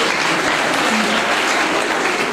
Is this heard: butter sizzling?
no